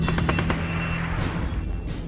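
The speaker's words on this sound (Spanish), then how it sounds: "patrullas de la policía o militares provocaban incidentes con intercambios de disparos" A burst of rapid gunfire rings out during an exchange between police or military patrols in Peru, several quick cracks in a tight cluster at the start followed by a couple of scattered distant reports, with no voices.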